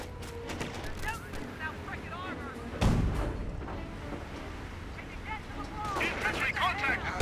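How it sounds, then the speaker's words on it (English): Butterfly bombs explode in a Company of Heroes battle as scattered booms and crackling blasts, one heavy burst in the middle, under continuous commentary talk. "Notice the butterfly bombs were called in right there."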